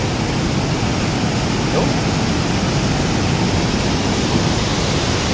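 A strong river current rushes in a steady, loud, broadband roar that stays even from start to finish with no break or voice.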